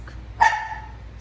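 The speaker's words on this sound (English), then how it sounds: "Sorry, that's my dog." A pet dog named Chloe gives one sharp, loud bark close by indoors, a short yelp that trails off quickly against a quiet background.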